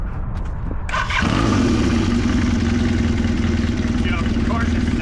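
A motorcycle engine turns over after a short pause and catches, settling into a loud, steady idle that runs on close by.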